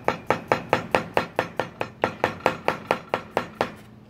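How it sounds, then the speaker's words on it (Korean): A knife chops rapidly and steadily on a cutting board, finely julienning potato for a potato soup, about eighteen crisp even strokes close up with no talk. "곱게 채 썰어"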